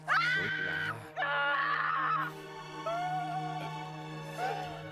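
A woman screams in pain while a wound on her leg is stitched on a fishing boat, with a steady low hum beneath; loud wailing cries come in several bursts, each breaking into strained moans.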